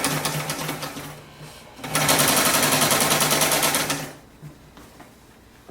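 A fast sewing machine stitching fabric, a rapid even mechanical chatter that starts in a shorter run, pauses briefly, then drives loudly for about two seconds before stopping into quiet room noise.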